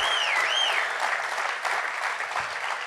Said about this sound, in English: Come on, clap your hands if you believe this.